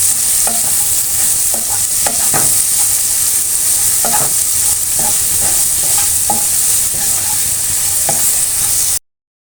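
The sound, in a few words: onions frying with turmeric, being stirred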